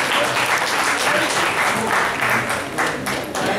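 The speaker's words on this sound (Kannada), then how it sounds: "ಖಂಡಿತ ಚಪ್ಪಾಳೆಗಳು ಬರಲಿ ಅಂತ ನಾನು ಕೇಳ್ತಿರ್ತೀನಿ." A seated audience at a musical event claps together in a full, sustained round of applause that stays loud and dense throughout.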